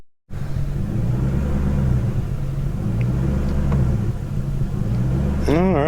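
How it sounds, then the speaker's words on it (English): A BMW E39 540i with a 4.4 V8 engine idling at low RPM under steady throttle, a deep, close rumble that swells and dips in a slow, uneven surging pattern. "You see what my car's doing, and I'm holding steady throttle."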